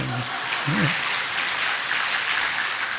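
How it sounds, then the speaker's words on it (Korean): A church congregation of older listeners claps steadily in dense, continuous applause after a sung sea-captain song, with a brief sung vocal fragment at the start. "이 박수 한번 하세요"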